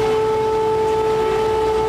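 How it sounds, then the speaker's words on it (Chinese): Air raid sirens sounding across Kyiv during a Russian missile attack, heard as a steady, unbroken wail holding one pitch, loud and continuous over a broad background roar, with no voices. "几小时后，换基辅警报大作"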